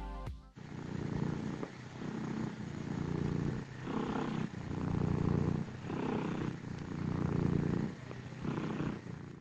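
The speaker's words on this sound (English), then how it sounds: "one for him purring, which honestly just sounds like purrs of a real cat" A steady, rumbling cat purr from a video game pulses in slow rhythmic waves, close and continuous, with no other sounds around it.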